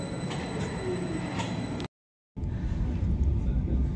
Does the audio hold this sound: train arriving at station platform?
yes